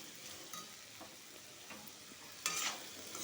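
Chopped green chillies frying in a pan for fried rice: a soft, steady sizzle with faint stirring scrapes, plus a brighter burst of crackle near the end, quiet and without voices.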